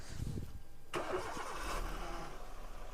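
A 2010 Maruti Swift petrol car cranks and starts, a sharp starter burst settling into a quiet, even idle heard up close without speech.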